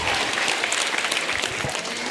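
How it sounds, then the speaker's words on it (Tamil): Audience applause for a student named Meghana, with dense, steady clapping filling the whole stretch and no talking. "மேகனாவுக்கு ஒரு கைத்தட்டல் கொடுங்க."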